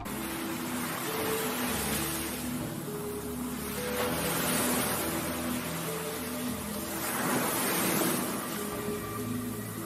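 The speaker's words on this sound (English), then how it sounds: "It is basically a background static noise that sounds a little bit like some waves crashing against the shore." Fortnite teaser background static resembling ocean waves crashing on a shore, a steady broadband wash swelling in slow surges, with faint low tonal hum notes underneath throughout.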